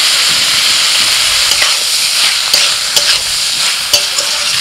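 Onion being stirred and fried with ground sesame paste, green chilli and turmeric in a pan, a continuous loud sizzle and hiss with scraping stirs of the spatula breaking through, no voices.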